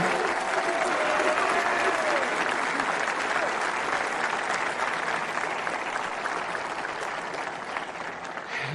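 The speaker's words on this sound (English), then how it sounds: "Let's give a round of applause to the incredible job they did." Audience applause for Marines at the Marine Corps 250th anniversary celebration, a dense, sustained roar of clapping from a large crowd that holds steady for several seconds and fades slightly toward the end, with no talk over it.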